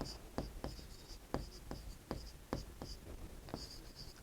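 A pen scratches on paper while a Class 8 geometry exercise on quadrilaterals is worked out. Rhythmic, evenly spaced strokes tap and scrape close by, quiet and without speech.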